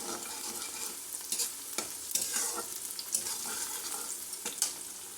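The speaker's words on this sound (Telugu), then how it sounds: "ఆయిల్లో పచ్చివాసన పోయే వరకు 1 నిమిషం ఫ్రై చేసుకుందామండి." Ginger garlic paste frying in oil with turmeric, a continuous bright sizzle broken by repeated spoon scrapes and stirring taps in an uneven rhythm, close up and without speech.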